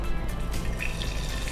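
Half a cup of water goes into a hot tempering for dhokla, giving a constant wet, hissing rush with faint drips and bubbling, close by and without speech.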